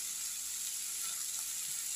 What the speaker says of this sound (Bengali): তো এখন আমি সবজিগুলোকে বেশ ভালো করে ভেজে নেব।